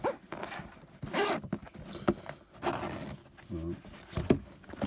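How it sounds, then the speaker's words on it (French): Zipper on an EVA storage box being drawn open, a few scratchy rasping pulls with brief pauses, heard close up, mixed with soft handling noises. "Donc là, une belle fermeture éclair"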